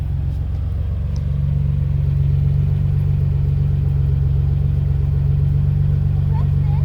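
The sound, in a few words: 1993 Nissan twin turbo car engine revving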